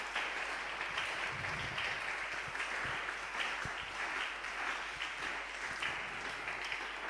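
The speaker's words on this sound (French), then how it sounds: "Acclamons très fort le Seigneur Jésus." A church congregation claps at length in sustained, dense applause that holds steady throughout, with no voices standing out.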